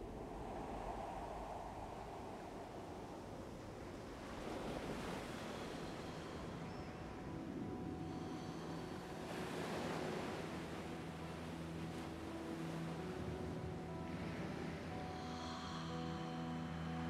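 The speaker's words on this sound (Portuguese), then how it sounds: "E eu ouço o mar." Steady, whooshing sea-wave rush as if heard inside a seashell held to the ear, a continuous muffled roar that swells and recedes gently without any voices.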